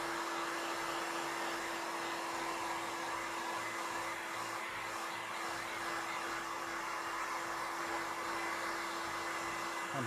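A heat gun blows hot air in a steady, loud, unbroken roar with a constant motor hum, running alone for the whole stretch while scales for a lizard-feet project are worked.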